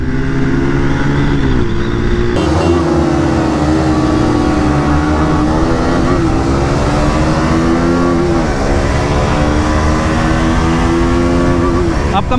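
Several motorcycles, including a KTM RC125, Yamaha R15S, Yamaha MT-15 and Bajaj Pulsar 150, rev and accelerate hard together in a loud, sustained engine roar with rising and falling pitch, close to the rider throughout.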